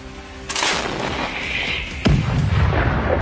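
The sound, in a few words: artillery fire hitting armored vehicles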